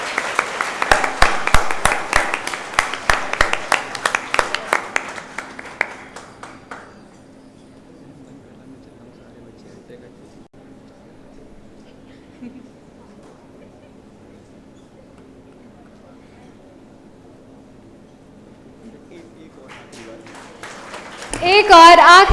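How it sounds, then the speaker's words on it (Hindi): Applause for the winners at a founder's birthday celebration, a burst of clapping for about six seconds that then drops away to a quiet room hum, with clapping swelling again at the very end. "तो एक आखिरी बार जोरदार तालियां"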